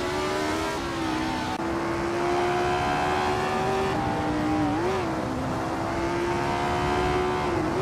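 A 1964 Ferrari 158 race car engine howls in a steady high-pitched drone, its pitch dipping and climbing through gear changes while staying loud and continuous throughout.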